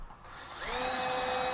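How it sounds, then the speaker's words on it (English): A power drill pre-drilling holes in a piece of wood for a king-size bed frame, its motor spinning up into a steady high whine after a brief start, close and alone. "Drilling these holes, pre-drilling for these, because if you don't, you're going to split the piece of wood."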